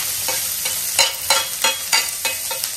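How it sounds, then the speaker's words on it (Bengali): Chopped onion and chilli fry in mustard oil with nigella and carom seeds, a close, bright sizzle pulsing with regular stirring strokes about every third of a second. "পেঁয়াজটা ভাজা হয়ে গেছে"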